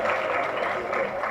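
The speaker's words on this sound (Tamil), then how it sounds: "மிகப்பெரிய கரகோஷம் கொடுத்துடலாம் இப்படி ஒரு எனர்ஜெட்டிக்கான ஸ்பீச்சுக்கு" Crowd applause from an audience at a comedy speech event in Tamil Nadu, a dense steady wash of clapping filling the whole moment without pause.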